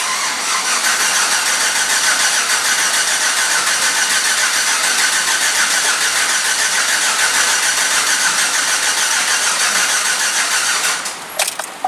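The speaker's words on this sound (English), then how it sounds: "I'm just going to give her the old clear flood crank, tried and true on GMs" A 2007 GMC Yukon with a replaced engine cranks steadily in clear-flood mode, a loud, continuous starter whir running for about eleven seconds before stopping, with no voice.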